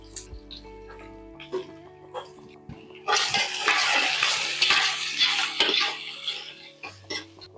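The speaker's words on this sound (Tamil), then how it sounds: "இப்ப 4 பெரிய வெங்காயம் கட் பண்ணி எடுத்து வச்சிருக்கேன், இதையும் வந்து நல்லா வதக்கிக்கலாம்." Four large chopped onions sauté in a pan for mutton dum biryani: spoon knocks and stirring, then a louder burst of sizzling that settles back to scraping, no talk.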